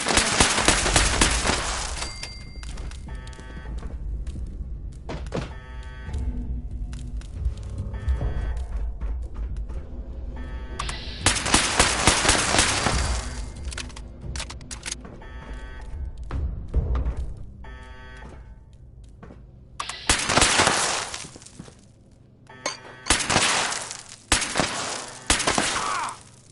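Sustained gunfire and explosive impacts in the video game Steel Reign, loud dense bursts and rattling volleys running nearly continuously with short lulls.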